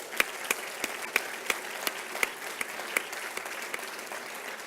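Audience at a college State of the College address claps steadily, a crisp continuous patter with distinct individual claps, moderate and evenly sustained throughout.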